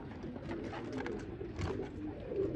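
Pigeons coo close by in a loft, soft repeated throaty calls overlapping over a low background rustle, with no talking.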